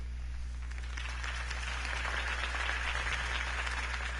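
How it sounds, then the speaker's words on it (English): Crowd applause swells after a campaign speech for Harvey Dent in the Batman Telltale video game, a steady distant wash of clapping over a low game hum. "If only Mr. Wayne, my campaign's largest backer, could have heard that applause"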